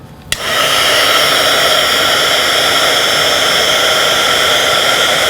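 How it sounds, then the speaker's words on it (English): A craft heat tool blows hot air steadily to melt embossing powder on Tim Holtz grunge board. After a brief click at the start, a loud, even whooshing roar holds constant and close, with no talking. "I'm going to take our heating tool here"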